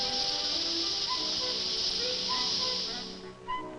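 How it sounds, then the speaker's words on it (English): Live steam hisses steadily as a special effect for a sinking PT boat on a studio set, a bright continuous rush that fades out near the end. "To give the sinking PT boat realism, special effects man Wally Wilger creates a little magic with live steam"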